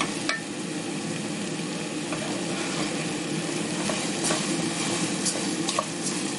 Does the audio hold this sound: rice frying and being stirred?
yes